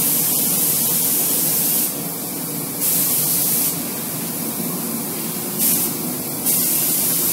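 A spray gun fed by a hose hisses in bursts while a Bronco is painted, the broad close hiss switching on and off several times in uneven lengths with no talk.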